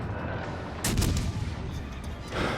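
Naval guns fire in a warship video game, a sustained low rumble of cannon fire with a heavier boom near the middle, moderately loud and without speech.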